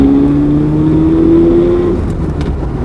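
A classic Japanese car's engine drones loud and close while driving, its pitch climbing steadily under acceleration before dropping off as a gear shift comes, with cabin road noise throughout.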